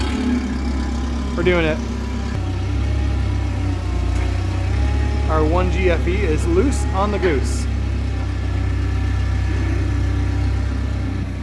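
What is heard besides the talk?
forklift engine running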